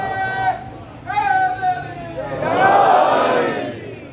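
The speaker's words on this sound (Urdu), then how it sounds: "جو بچے یہاں کھڑے ہو کے نعرہ لگاتے ہیں" Children at a Muharram religious gathering loudly chant slogans. A few sharp, drawn-out shouts are followed by a swelling burst of many voices together.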